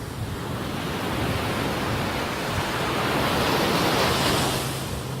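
Ocean waves wash steadily onto a beach under open sky, a continuous broad roar of surf that swells and recedes gently, close and fairly loud, with no voices.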